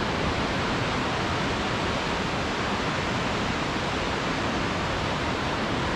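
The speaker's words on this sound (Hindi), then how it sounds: "और ये इतना ठंडा और तेज पानी है ना बर्फ का।" The Baspa river rushes past, cold and fast with snowmelt in the Kinnaur valley, making a loud, steady roar of churning water that fills the whole stretch without a break.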